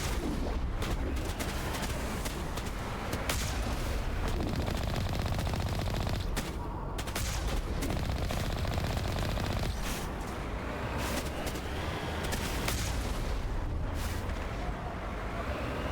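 Rapid bursts of gunfire from snipers being shot down in the Mass Effect video game, continuous crackling volleys with sharp cracks throughout, loud and dense with no talking.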